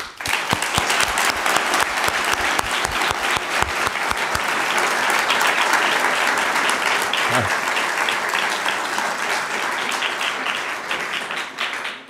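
A large crowd at a school graduation ceremony applauds a retiring deputy headmaster, with loud, dense clapping that starts a little ragged, then holds steady and full before easing slightly toward the end.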